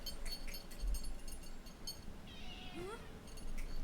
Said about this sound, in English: I don't have her meowing as an excuse for playing badly anymore